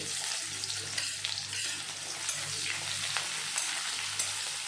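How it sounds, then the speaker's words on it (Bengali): Continuous crackling sizzle of chopped onions and nigella seeds frying in hot oil, with scattered scraping and stirring clicks from a utensil moving through the pan. "পেঁয়াজটা একটু ভেজে নেব।"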